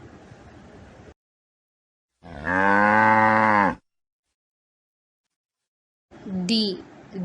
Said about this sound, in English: C. Cow.